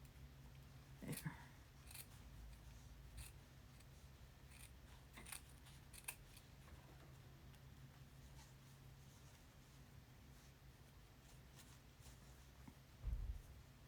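Scissors snip slowly through fabric around a pin, faint sparse clicks and crunches spread over a quiet stretch, with one louder handling knock near the end.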